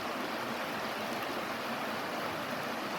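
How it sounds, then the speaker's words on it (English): Creek water rushes continuously over roadside rapids in a steady, broadband wash, fairly close, with no voices. "and water falls down,"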